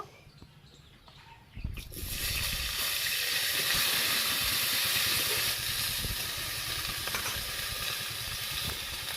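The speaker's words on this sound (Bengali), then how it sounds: "আমি কড়াতে দিয়ে দেবো আবারও একটু তেল। ফুলকপিগুলো ভেজে নেব।" Cauliflower pieces dropped into hot oil in a wok burst into a loud, sustained hissing sizzle after a quieter opening, the frying continuing evenly to the end without talk.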